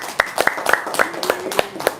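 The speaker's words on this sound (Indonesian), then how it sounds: "Tepuk tangan dulu dong." An audience claps briefly at a religious gathering: sharp, fairly loud hand claps in an uneven rhythm, with a sustained voice underneath.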